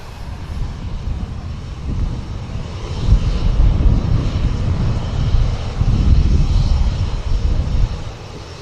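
A jet airliner roars steadily at an airport, a loud continuous engine rumble with a broad hiss. It swells slightly over the middle and later seconds, with no talking heard.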